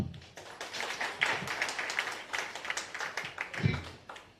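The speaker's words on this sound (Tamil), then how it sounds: "அவரை பத்தி நினைச்சு நம்ம ஒரு நிமிஷம் கைத்தட்டலாமா?" An audience at an on-stage public event claps together, a steady, dense patter of many hands, close and continuous throughout with a brief louder swell near the end.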